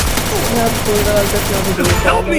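Rapid automatic gunfire in the Free Fire battle royale game, dense overlapping bursts of shots rattling almost continuously and loud throughout.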